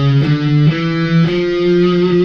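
Heavily distorted electric guitar playing a riff from a song, with loud sustained notes sliding between pitches in a slow, ringing phrase and nothing else heard.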